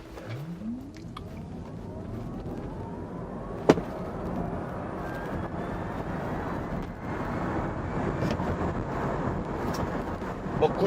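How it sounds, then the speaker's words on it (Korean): A Tesla Model Y RWD electric car accelerating from a standstill to 100 km/h, heard from inside as a rising electric motor whine climbing steadily in pitch beneath growing road and wind noise. "시속 100km 가속 시간과 거리 측정해 보도록 하겠습니다."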